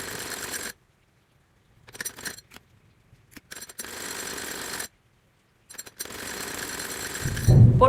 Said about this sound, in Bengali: এই যে এভাবে চারিদিক দিয়ে আমি এই সেলাইটা দিয়ে নিচ্ছি।